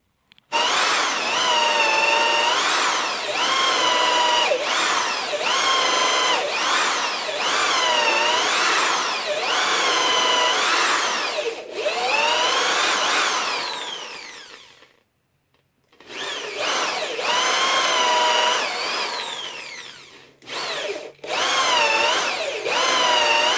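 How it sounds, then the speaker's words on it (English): A hand drill grinds into driftwood in long, loud bursts with rising and falling pitch, pausing briefly before drilling resumes, close up and without talking. "so hand drill it is"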